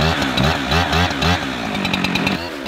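A chainsaw mounted in an Alaskan chainsaw mill cuts a log, its engine pulsing in rhythmic revving bursts, loud and close, settling into a steadier growl toward the end.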